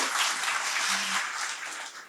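Audience applause at a music-and-film talk event, a dense, steady wash of many hands clapping that carries on for about two seconds before beginning to thin.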